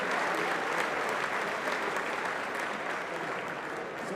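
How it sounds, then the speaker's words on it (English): Sustained audience applause at a RoboCup 2024 opening session, a dense wash of many hands clapping evenly throughout, loud and close, with no talk over it. "And that's an applause, folks. Let's go."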